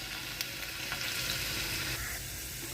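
Curry leaves, mustard seeds, fenugreek and cumin sizzle with onions in a pan, a steady, fairly soft frying hiss with a few light crackles and stirring sounds.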